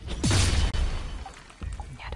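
Explosion in the video game Dust: An Elysian Tail: a booming burst with a crashing, shattering edge and swooshing debris, followed by fading rumble and a second thud near the end.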